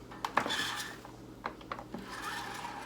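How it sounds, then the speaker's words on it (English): A reloading press crimps a 16 gauge shotgun shell hull: close scraping, rubbing and rasping strokes with a few sharp metallic clicks over a low steady hum. "Setting it right on top of the hull, crimping it again."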